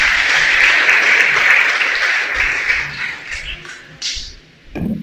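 Strong, close congregation applause at a Shabbat sermon, a full wash of dense clapping that gradually tapers off, followed by a few stray claps and the sound of someone starting to speak.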